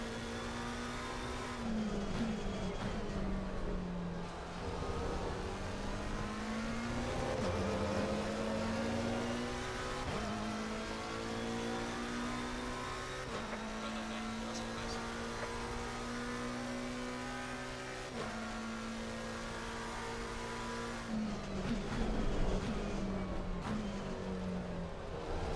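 A McLaren GT race car's engine in Assetto Corsa Competizione at Kyalami, revving steadily through gear changes with repeated rising pitch sweeps, loud and continuous with no talking.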